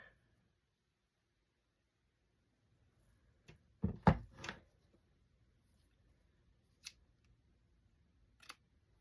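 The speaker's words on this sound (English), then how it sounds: "We want to cut a little piece of lace out of here." Scissors make a few quick snips through a small piece of lace while crafting shabby button cards, a short cluster of close, crisp cuts followed by two isolated snips in an otherwise quiet room.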